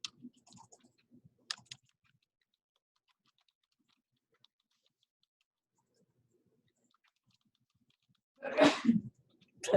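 Sneezes indoors in a classroom: a couple of faint clicks and small noises early on, then one loud, close sneeze burst near the end after a long stretch of near silence.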